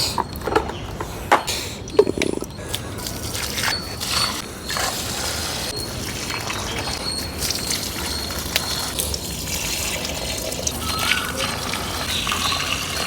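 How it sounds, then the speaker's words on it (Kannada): Four potted plants outdoors in morning sun being watered, with a steady broadband trickle and splash of water running throughout, a few sharp clicks and knocks near the start, no talking. "ಗಿಡಗಳಿಗೆ ಫ್ರೆಶ್ ಆಗಿ ನೀರು ಹಾಕ್ಬಿಟ್ಟು"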